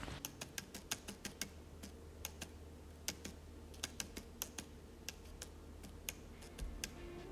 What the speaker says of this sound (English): Here's what this lens sounds like.